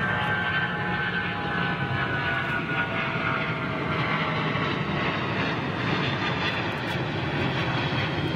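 An airliner with Rolls-Royce XWB engines at full power roars past at London Heathrow Airport, a loud, steady, broadband engine rumble and hiss that holds throughout without talk.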